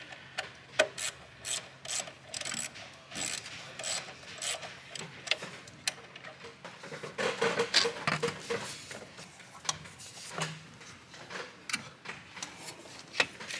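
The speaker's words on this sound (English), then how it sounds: "I'm just using a quarter inch drive ratchet." A quarter-inch drive ratchet tightens a part during a 6.0L Power Stroke turbo install. It gives repeated quick clicking bursts with short pauses between them, close and moderately loud, and nobody speaks.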